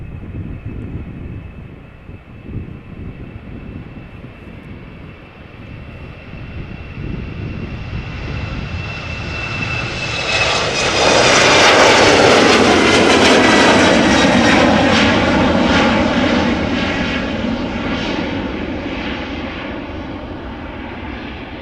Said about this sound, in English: Next up is an Embraer 190. Destination Trondheim.